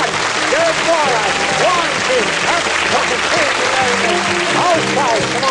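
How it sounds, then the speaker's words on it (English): An audience in a 1981 television show breaks into steady, dense applause that fills the whole stretch, with scattered voices calling out over the clapping. "A little bit quicker, and the applause will start in a minute."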